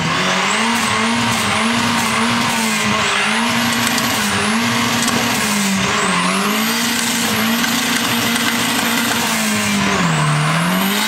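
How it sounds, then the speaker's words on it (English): A Volvo car does a burnout, its engine roaring steadily while tires squeal continuously at high pitch for about eleven seconds, loud and close, with the squeal pitch wavering up and down. "This Volvo burnout ends very badly."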